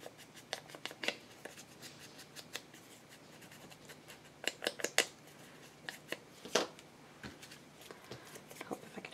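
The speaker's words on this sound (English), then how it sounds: "I'm going to tear some of this off now" Paper torn off a roll or sheet for crafting, heard as a run of close, crisp rips and crinkles with scattered handling noises, some louder bursts, and faint low speech under them.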